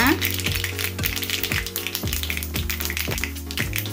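Mustard seeds and cumin crackle and pop in hot oil during tempering for a mango dal sambar, a dense run of sharp snaps with a steady sizzle underneath, close and continuous, with a low hum running throughout.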